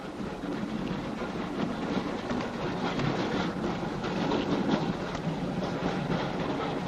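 A train runs along the rails, heard as a steady, dense rumble and rushing roar that stays loud and unbroken throughout, with no voices.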